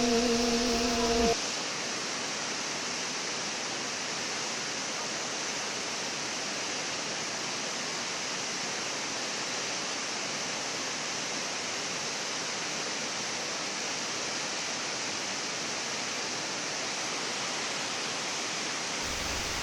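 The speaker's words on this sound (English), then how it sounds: "Looking to the power of the nature at Leimaram, enjoy to the waterfall." A waterfall at Leimaram roars as a loud, steady, unbroken rush of falling water, close and continuous, after a brief tone at the very start.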